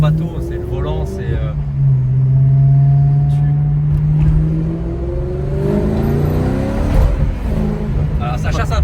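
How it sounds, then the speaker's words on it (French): A car, compared with a small Mini, accelerates hard: engine pitch sweeps steadily upward under ongoing conversation, loud and close throughout. "je vais te faire une accélération"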